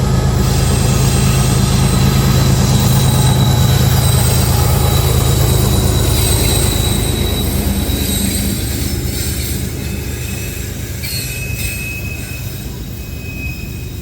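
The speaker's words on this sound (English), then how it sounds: "Here comes Norfolk Southern 787 out of the tunnel in Simon, West Virginia, coming through Cub Creek Connection." Norfolk Southern 787 coal train rolling through Cub Creek Connection near Simon, West Virginia, a loud continuous rumble of railcars with high, sustained wheel squeals ringing over it, slowly easing as the cars pass.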